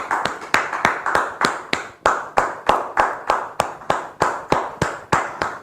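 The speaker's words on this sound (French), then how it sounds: "Des ovations bien nourries pour recevoir notre sœur." Rhythmic, evenly paced clapping from a church congregation welcoming a visiting sister, loud and close with steady beats and no talking over it.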